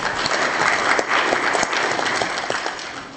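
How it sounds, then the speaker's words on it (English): A conference audience applauds a panel after a discussion session. A fairly loud, close burst of many hands clapping continues steadily, easing slightly at the end. "A round of applause for the panel,"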